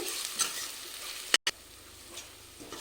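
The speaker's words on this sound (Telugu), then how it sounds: "దీన్ని కాస్త పచ్చివాసన పోయే వరకు ఫ్రై చేసుకోవాలి" Ginger garlic paste frying in a pan for a dawat-style mutton curry, a close, steady sizzle with stirring scrapes, broken by a brief sharp cut-out near the middle. No voices are heard.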